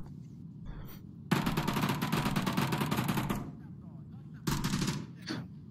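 Rapid automatic gunfire in the Onward VR shooter game, two sustained bursts of loud crackling shots, the first long and the second shorter, separated by a quieter gap.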